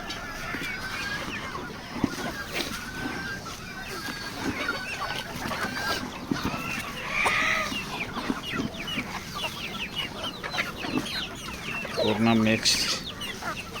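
A flock of chickens clucks and chatters continuously nearby while eating azolla feed, busy overlapping calls with a louder squawk near the end and a voice underneath.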